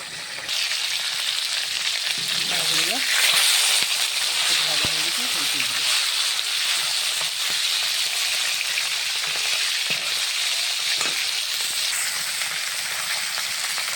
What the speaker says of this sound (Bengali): মাছগুলো সুন্দরভাবে ভাজা হয়ে গেছে